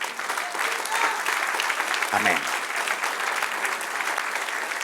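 A church congregation applauds steadily during a service, a dense, even wash of clapping that lasts the whole stretch, with a brief spoken word from the preacher partway through.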